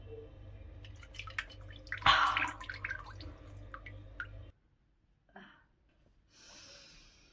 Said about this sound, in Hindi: वो अपना फेस अब आइस में डंक कर रही है